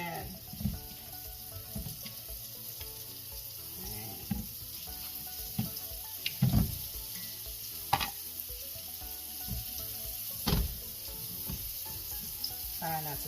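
Pork chops fry in oil with a constant close sizzle and crackle, joined by occasional clinks and knocks of cookware and the sound of running water.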